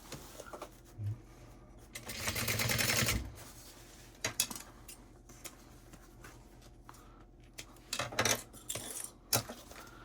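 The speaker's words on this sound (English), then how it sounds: "So I'm going to turn it like this, and we're going to stitch it on." Sewing machine stitching an antenna onto a fabric backpack, with a faint whirring run of stitches, then quieter handling clicks and a couple of short bursts later on.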